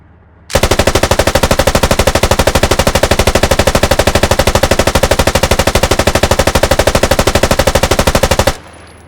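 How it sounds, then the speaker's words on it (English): RPD light machine gun with a 100-round drum magazine in the game Squad, firing one long sustained burst of rapid, evenly spaced loud shots for about eight seconds before stopping abruptly. "And the last weapon to showcase here is the RPD. It is a 100-round drum magazine-fed light AT weapon"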